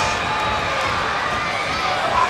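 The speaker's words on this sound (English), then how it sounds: "The capacity crowd on hand at the Baltimore Arena for SuperBrawl 5" A capacity crowd at the Baltimore Arena roars steadily during a WCW SuperBrawl V tag-team wrestling bout, a dense wash of cheering and shouting with no break.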